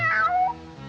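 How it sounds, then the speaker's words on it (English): A hungry cartoon cat lets out a single drawn-out meow, loud and close, wavering in pitch before trailing off. "I'm that hungry little kitty cat you just read about"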